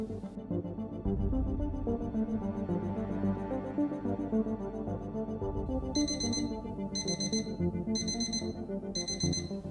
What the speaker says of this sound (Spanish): El despertador sonó a las 7:30.